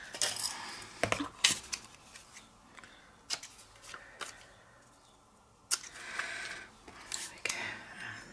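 Scissors trimming the corners of a paper art journal page, a few sharp snips and rustles close by, spaced out with quiet gaps between them.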